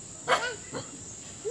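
A dog at a family home gives about three short barks, spaced out over a quiet background with a faint steady hiss.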